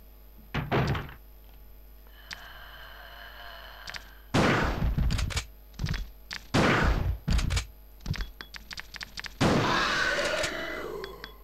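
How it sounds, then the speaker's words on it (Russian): Gunfire in Resident Evil 2 aimed at a licker, several loud sharp shots spaced a few seconds apart over a steady game ambience hum, with a noisy burst trailing off at the end. "три выстрела было нужно лизуну"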